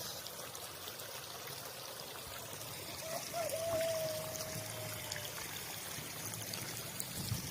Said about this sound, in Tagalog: So, nagpapasok na ulit kami ng tubig.